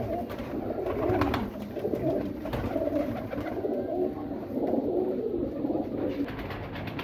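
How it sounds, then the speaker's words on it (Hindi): Ferozpuri pigeons coo in low, throaty, overlapping calls that repeat steadily throughout, close by and fairly loud. "ये आप देखिए माशाल्लाह ओरिजिनल फिरोजपुरी कबूतर है भैया"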